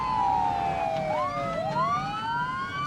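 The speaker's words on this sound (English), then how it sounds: "Yeah, their sirens are on now." Police car sirens in a driving video game wail with overlapping rising and falling tones, loud and steady, over a low engine rumble with no talk.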